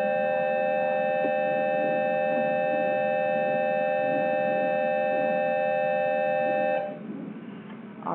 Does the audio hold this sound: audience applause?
no